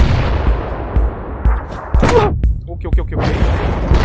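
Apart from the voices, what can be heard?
grenade explosions in the video game PUBG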